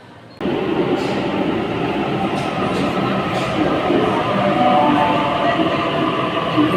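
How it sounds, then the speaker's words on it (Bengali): A modern Sydney train pulls into a station platform, a loud, steady rumbling roar that starts abruptly and swells slightly as the carriages roll in, with faint clicks above the rumble. "নির্ধারিত সময়ে ট্রেন প্ল্যাটফর্মে এসে থামছে।"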